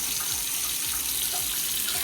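Tap water runs steadily into a sink in a Canadian home, filling the basin with a continuous close splashing rush and no speech.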